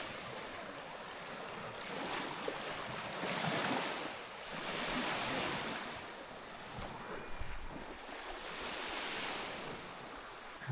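Sea waves wash ashore at Puka Beach, Boracay, a soft continuous surf that swells and recedes in slow surges, with faint wind noise on the microphone.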